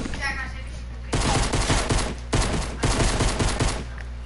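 Gunfire in a PS4 video game comes in loud, rapid bursts of automatic shots, two dense volleys separated by a brief pause, close and dominant, with a faint tone underneath at the start.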